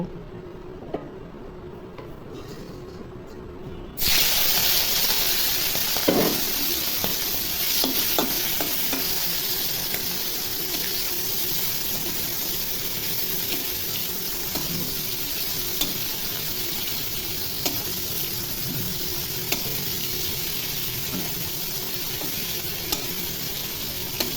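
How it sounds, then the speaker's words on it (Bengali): Prawns hit hot oil and burst into loud, steady sizzling after a few quiet seconds, frying continuously at close range with occasional stirring clicks. "তেল গরম হয়ে গেছে এখন চিংড়ি মাছগুলো ভেজে নিব"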